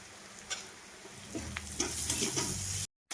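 Onion sautéing in a pan until reddish, a steady crackling sizzle with soft spoon scrapes and stirring taps, moderately close, ending in a sudden brief cut to silence.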